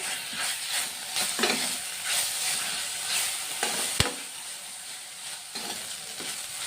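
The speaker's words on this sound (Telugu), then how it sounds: "అల్లం వెల్లుల్లి కూడా వేగిపోయింది" Ginger and garlic fry in hot oil for an egg curry, giving a steady close sizzle and hiss with a few soft scrapes and taps of a spoon stirring in the pan.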